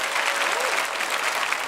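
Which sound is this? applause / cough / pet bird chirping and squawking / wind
applause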